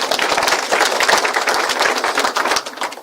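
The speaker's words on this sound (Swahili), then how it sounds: "Makofi kwake." Applause for a head teacher during a live church choir program in Mwanza, dense steady clapping from a crowd, loud and continuous for the whole stretch.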